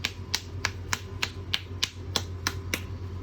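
Knuckles rap on a delaminated, previously repaired cricket bat: about ten sharp, evenly spaced knocks, close and alone, over a low hum.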